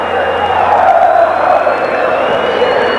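Palmeiras supporters fill a stadium at Morumbi with a steady, distant wash of crowd singing and cheering after a 4–1 win over Corinthians in the 1999 Campeonato Brasileiro, continuous throughout with no pauses.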